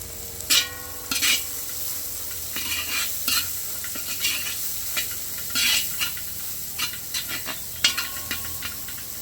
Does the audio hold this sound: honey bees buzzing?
no